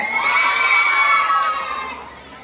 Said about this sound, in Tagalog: Pwede po bang maglambing ng isang masigabong palakpakan na may kasamang sigawan?